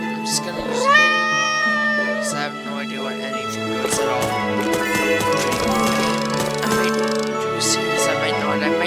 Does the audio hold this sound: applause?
no